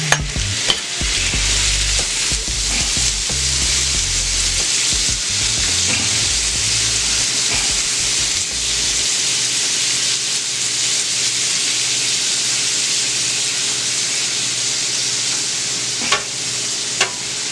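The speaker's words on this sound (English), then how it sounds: "we're gonna add my shrimp to the griddle here" Shrimp sizzling on a hot steel griddle, a loud, steady crackling hiss that continues without a break, with occasional scraping and stirring at the start.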